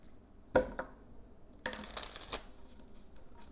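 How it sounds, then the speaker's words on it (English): Tarot cards shuffled up close: a quick card slap followed by a longer riffling shuffle, soft and close, with quiet room tone around it. "One more shuffle."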